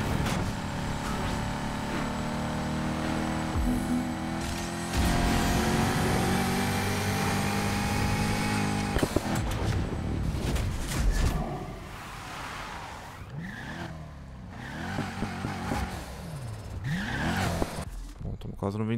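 A race car in the video game Need for Speed Heat drives at speed with a sustained engine drone, shifting revs and tire squeals, while someone talks over it throughout.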